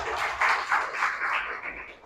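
A classroom of students clapping in a set rhythmic pattern, several quick bursts of group claps close together, fairly loud, ending as the sound fades.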